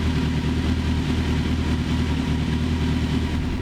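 Honda CBR 400 motorcycle fitted with a Fireblade engine idling, a steady low rumbling thrum held evenly and close throughout.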